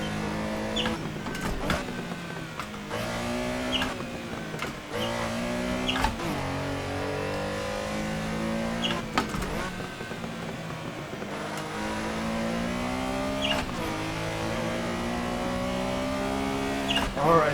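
Porsche 911 Carrera RSR 3.0 racing in Assetto Corsa, its engine rising and falling through repeated gear changes on a canyon road, loud and close, with someone talking over it throughout.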